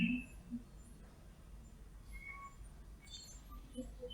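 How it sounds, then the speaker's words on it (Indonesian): A cat gives short, faint meows in a quiet indoor space, one cry at the very start and another near the end, with low background hum between them. "Dapat lagi ini kucing."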